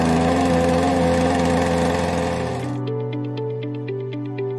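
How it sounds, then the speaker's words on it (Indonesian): A 52cc two-stroke petrol engine of about 3 HP driving a portable water pump, buzzing loudly at high revs and then dropping to a lower, steadier running tone partway through. "pompa air ini menggunakan engine atau mesin penggerak 2 tak dengan kapasitas silinder 52 cc dan daya sebesar 3 HP"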